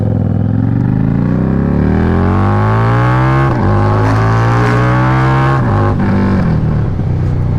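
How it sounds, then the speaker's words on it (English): A 750 motorcycle engine revving loudly close by, pitch climbing through the throttle then dropping on downshifts, with sharp exhaust pops and crackles breaking in near the middle and later in the run. "if you downshift, then get back on the throttle, and it just pops."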